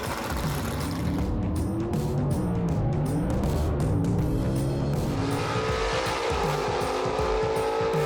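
Drag race cars launching with a powerful Fulton motor at a gasser event, loud roaring engines and tire squeal sweeping past, steady and unbroken for several seconds with no talk.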